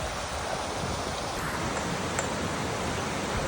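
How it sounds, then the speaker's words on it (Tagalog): Water pours steadily over Ryde Falls near Oxford, New Zealand, a continuous broadband rush that holds even and unbroken throughout, fairly close and moderately loud, with no voices over it. "Lingaw ng tubig oh."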